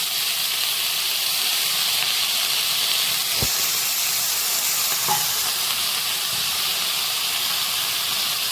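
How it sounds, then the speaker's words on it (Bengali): Spinach greens sizzle in a pan with small kachki fish, a steady close hiss of frying with a couple of faint clinks from stirring. "এবার এটাই শাকগুলো দিয়ে দেবো। জল জল কিচ্ছু লাগে না মাছ এই শাকে।"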